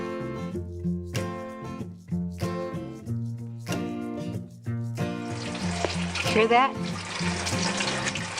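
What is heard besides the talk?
water running through a hydroponic tower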